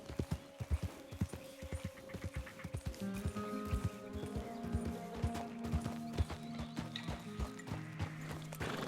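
A horse's hooves clip-clop at a steady trotting rhythm in Red Dead Redemption 2, close and clear, with tonal ambient sound swelling underneath partway through.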